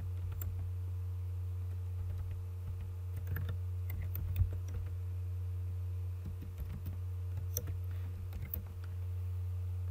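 A computer keyboard being typed on to enter text in PowerPoint: steady, close clicking keystrokes in uneven runs over a constant low electrical hum.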